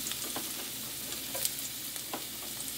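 Onions sautéing in hot grease, a faint, even sizzle with a few soft stirring scrapes spaced across a few seconds.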